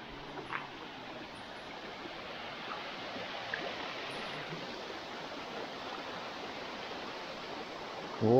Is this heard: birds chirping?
no